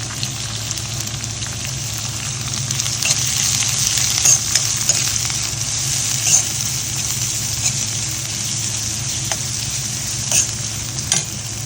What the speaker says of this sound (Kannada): ಹಾಕ್ಕೊಳ್ಳೋಣ ತಣ್ಣಗೆ ಹಚ್ಕೊಂಡಿರೋ ಈರುಳ್ಳಿ